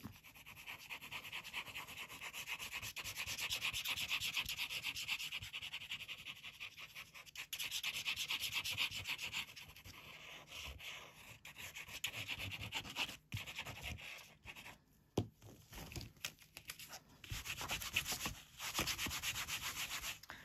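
Paper freshly coated with glue is rubbed down by hand during a Christmas tag craft, giving a steady, close scratchy swishing that runs in long strokes with brief pauses and occasional soft thumps, with no talk.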